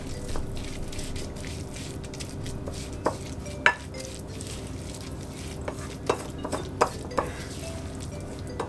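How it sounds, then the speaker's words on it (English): Oats stirred in a bowl to coat them in melted butter for Swedish oat crisps, a spoon scraping steadily with scattered sharp clinks against the dish, close and fairly quiet. "So all you're doing is just coating the oats with the butter."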